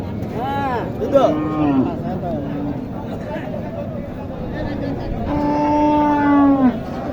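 At a busy cattle market in Bangladesh, a cow lets out two drawn-out moos a few seconds apart, close and clear over a steady background hum of crowd noise.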